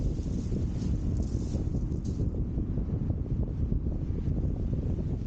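Onshore wind gusting steadily across a shingle beach at Chesil Beach, Ferrybridge, during sea fishing, a constant loud rumbling buffet on the microphone with no voices.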